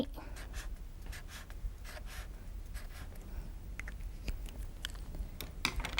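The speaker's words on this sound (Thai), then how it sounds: "เราก็อาจจะเขียนเส้นโค้งง่ายๆค่ะ แล้วก็เติมใบเป็น วงรีแบบนี้" A pen on tissue-paper batik artwork makes soft, scratchy strokes while drawing simple curved stems and oval leaves, in short bursts with brief pauses, quiet and close.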